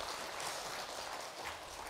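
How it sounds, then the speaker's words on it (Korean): Applause from the audience at a church Sunday service award presentation, a steady, soft patter of many hands clapping throughout, somewhat distant and without talking. "박수 해주시기 바랍니다"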